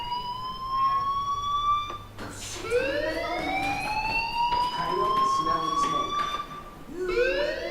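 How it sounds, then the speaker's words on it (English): A fire alarm wails in the video game Life is Strange as a loud, steady rising-and-falling siren tone that repeats in long sweeps, with game background noise underneath. "Hey, do you hear that fire alarm?"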